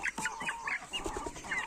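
Black Copper Marans chickens cluck softly in a series of short, repeated calls. The flock includes crested birds and birds with feathered feet.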